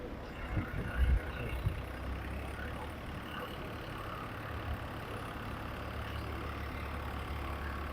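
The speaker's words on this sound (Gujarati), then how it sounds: "ટ્રેક્ટર આવી ગયું છે" A tractor engine idling on a village farm during winter ploughing, a steady low rumbling drone that holds evenly throughout, with a few faint knocks early on and no voices.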